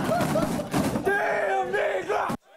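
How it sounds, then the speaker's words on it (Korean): Gwangju University students shout and cheer loudly together as a crowd when their senior scores a headed goal against Ghana in the World Cup, a dense chant of voices that cuts off abruptly. "선배 조규성의 날카로운 헤더슛이 골망을 뚫자 광주대 후배들이 환호를 지릅니다"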